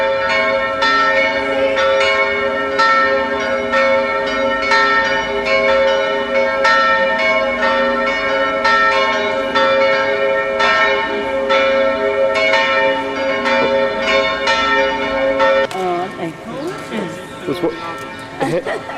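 Church bells ringing on a Sunday evening in Switzerland, a loud, continuous, layered peal with overlapping resonant strikes that fades near the end as voices take over.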